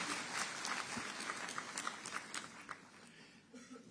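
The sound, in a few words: applause for the President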